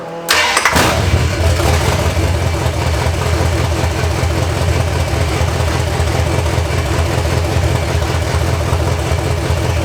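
A big block engine running with its oil cap off cranks, catches and settles into a loud, rough idle close by, a dense uneven rumble that holds steady to the end.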